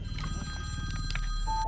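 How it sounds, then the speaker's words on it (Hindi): A mobile phone rings in a zombie film scene, a short electronic ringtone tone sounding briefly over a low, steady background rumble. "फोन की घंटी बज गई"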